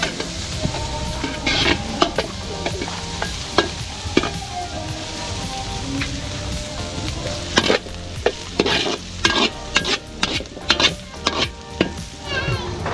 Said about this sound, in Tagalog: Tapos igisa na natin yung ating bawang, sibuyas, tsaka luya.